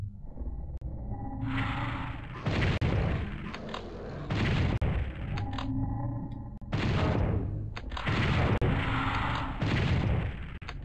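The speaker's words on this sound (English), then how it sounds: "Oh god, he can fire." Enemy weapon fire in the video game Doom 64, loud repeated booming blasts in bursts with rumbling decay, spaced a second or two apart over steady game ambience.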